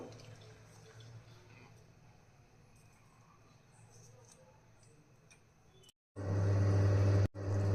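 Steady, fairly quiet running-water wash that swells into a loud, full pour into a pot near the end, briefly cut off before continuing.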